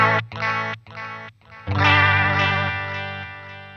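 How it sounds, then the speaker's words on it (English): Electric guitar notes through a chorus pedal and delays routed via a Sonicake Portal loop switcher: a few separate plucked notes, then a long sustained chord with wavering shimmer and trailing echoes, loud and close. "You can hear that the chorus pedal modulation is not in the delay."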